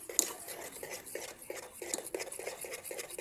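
Sugar-and-water candy mixture being beaten in a pot with a utensil, giving repeated quick knocks and scraping strokes against the metal in a steady rhythm, moderately close.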